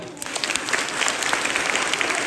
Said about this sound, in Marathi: हात वरती करून टाळ्या वाजवा.